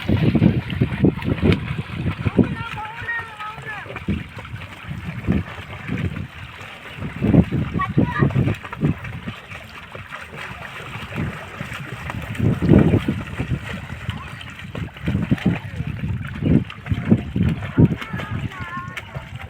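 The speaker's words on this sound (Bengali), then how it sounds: "ওরা দুজনাই সাঁতার কাটছে" Two children swim outdoors, with irregular watery splashes and thrashing bursts rising and falling over nearly twenty seconds, while voices carry in the background and some wind can be heard.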